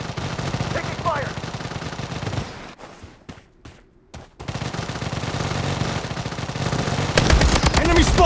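Rapid automatic gunfire in the BloodStrike battle-royale shooter, dense bursts loud and close with game voice callouts, a brief lull of scattered shots midway, then heavier firing and impacts resuming toward the end.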